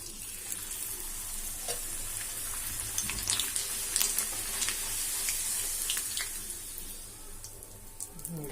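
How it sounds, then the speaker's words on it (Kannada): Puris fry in hot oil, a continuous bubbling sizzle with crackling bursts and light splashes, close and steady for the whole stretch. "ಎಣ್ಣೆ ಕಾದ ಈ ಪುರಿ ಹಾಕೋಣ."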